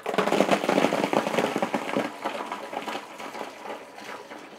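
Ice and water are tipped into a homemade ice chest air conditioner, making a loud clattering, splashing rush that gradually tapers off as the pour settles.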